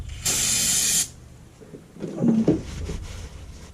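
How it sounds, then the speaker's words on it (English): One sharp hiss of a spray bottle spraying cleaner onto a towel, lasting under a second, followed by quieter rustling and a brief soft wiping scrape during a 2014 Dodge Charger Pursuit cylinder head install. "I'm just going to spray it on the towel."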